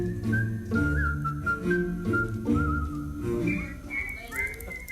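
A professional whistler performs a melodic excerpt from a stage show, the clear whistled tune gliding and leaping over a steady musical accompaniment throughout.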